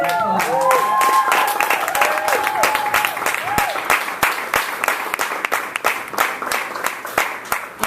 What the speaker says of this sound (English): Please give this panel another round of applause.